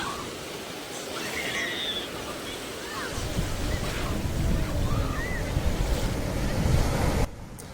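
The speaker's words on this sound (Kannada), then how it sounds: "ಕಾಲು ನೆನೆಸ್ಕೊಂಡು ಬೀಚ್ ದಡದಲ್ಲೇ ಓಡಾಡ್ತಾ ಟೈಮ್ನ ಸ್ಪೆಂಡ್ ಮಾಡ್ತಾಯಿದ್ದೀನಿ" Ocean waves wash steadily onto the shore at Mypadu beach, Andhra Pradesh, a continuous surf roar that grows fuller partway through, with wind buffeting the microphone.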